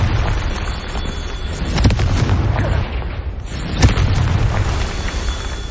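The Confringo fire spell explodes in Hogwarts Legacy, with two loud booming blasts about two seconds apart over a dense, continuous wash of game noise and no voices.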